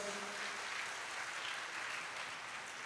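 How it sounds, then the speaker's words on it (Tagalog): A church congregation applauding for God, a dense, steady wash of clapping from many hands filling the room, loud and sustained without a break. "O yung malakas sa palakpak para sa Diyos."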